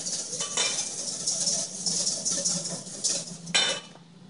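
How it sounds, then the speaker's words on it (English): A whisk beating hollandaise sauce in a metal pot, producing a steady scraping, clinking rattle that continues without a break, close and moderately quiet, with no talking. "we're whisking this to get air into it"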